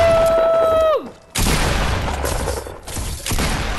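Gunfire in the Fortnite battle royale game, a sharp descending tone cut off by a sudden loud burst of shots and blasts, followed by continued noisy firing that swells again near the end.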